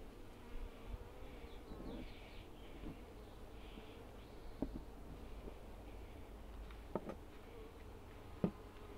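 Honey bees hum steadily around an open beehive during an inspection, a continuous close buzz with occasional clicks and knocks of the hive frames.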